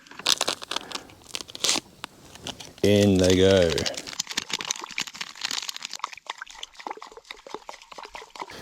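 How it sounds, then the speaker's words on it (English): A packet of chicken-flavoured rice is torn open and tipped into a pot of water at a camp stove, with crinkling and rustling, pouring and a brief loud tonal squeal midway, under and between a man's speech. "we're just going to cook some chicken flavoured rice in some water"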